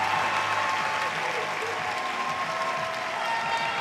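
Full, continuous applause and crowd noise for Miss Arkansas pageant contestants in a large hall, steady and loud throughout, with faint musical tones underneath.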